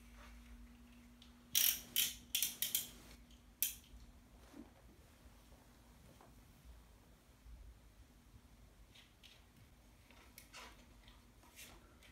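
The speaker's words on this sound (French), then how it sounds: "de serrer directement avec la petite molette autour de votre tête" A small ratchet dial on the head strap of an AMEO Powerbreather snorkel is turned, giving a quick burst of crisp close clicks followed by a single click, then near silence.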